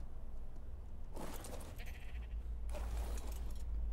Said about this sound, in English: I do like the new sheep, they're cool.